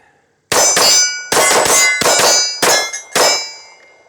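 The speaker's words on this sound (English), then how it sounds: "let's shoot some steel now" Handgun rounds striking steel targets at a shooting range, seven loud, sharp metallic clangs in quick irregular succession over about three seconds, each ringing out briefly before the next, with no talking.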